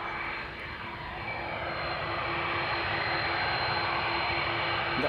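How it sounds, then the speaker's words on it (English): A KLM Airbus A330-200 airliner lined up on the runway at Amsterdam Schiphol, its jet engines giving a steady, moderately loud rumble with a constant whine, with no voices over it. "That would be an A330 that just lined up."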